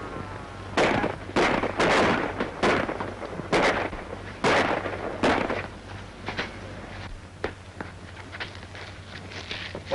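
Gunfire in a film shootout: a rapid series of loud, sharp shots in the first half, then sparser, fainter reports and scattered pops over a low steady hum.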